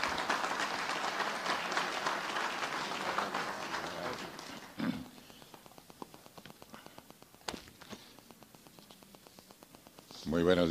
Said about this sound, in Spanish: Así que un fuerte aplauso, por favor, de nuevo.